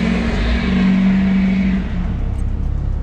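A turbocharged car revs hard and accelerates close by, with a loud sustained engine drone that eases off after a couple of seconds, and no talking over it.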